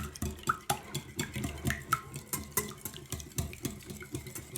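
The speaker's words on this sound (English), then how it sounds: "we're going to whisk this up really gently just until it's all mixed" Challah ingredients are gently whisked in a bowl, producing rapid rhythmic clicking taps and light scraping strokes, close and fairly quiet.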